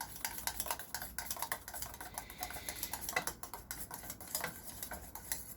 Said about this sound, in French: On mélange toujours.